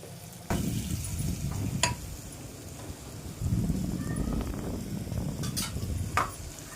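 Potato and chana dal with salt being sautéed in a pan: a low, rustling sizzle comes in bursts, with a few sharp utensil clinks against the pan.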